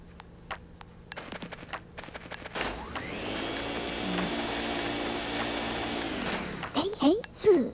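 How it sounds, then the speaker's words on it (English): The Poltergeist 3000 vacuum from the video game Luigi's Mansion roars to life, a loud sustained whirring suction that spins up, holds steady for several seconds, then winds down, with short clattering sounds before and after. "I call it, this genius, the Poltergeist 3000. It can suck up all kinds of things. Let her rip!"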